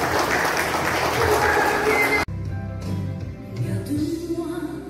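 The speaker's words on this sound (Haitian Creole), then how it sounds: "applaudissez chaudement." A wedding audience claps warmly, a dense burst of applause that cuts off abruptly midway and gives way to quieter room sound.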